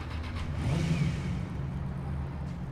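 In the Watch Dogs video game, a moped engine hums steadily up close and revs briefly, with a rising whine in the first second before settling back to a constant drone.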